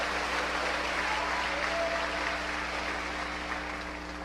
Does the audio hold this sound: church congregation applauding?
yes